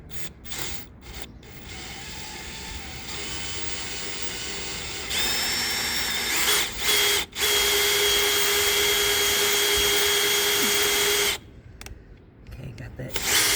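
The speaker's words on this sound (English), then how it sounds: "let's get that first screw mounted. And these are some long screws" A power drill drives long screws to mount a trolling motor on a Pelican Bass Raider 10e. It whirs steadily and loudly for about six seconds, preceded by short mechanical bursts and followed by fainter handling noise.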